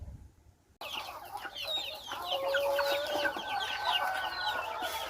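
Egg-laying chickens cluck steadily in a flock, with overlapping fowl calls and a few higher squawks over a soft outdoor background. The sound starts after a brief quiet moment.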